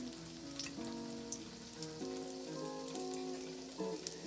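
Flour-coated Chicken of the Woods mushrooms frying in hot oil, a gentle, steady crackle and spatter heard up close over a faint tonal drone, with a sharper pop at the end.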